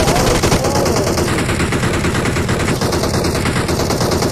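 Dense gunfire roars through a PUBG match, a loud, unbroken barrage of overlapping shots pounding close by with no pauses.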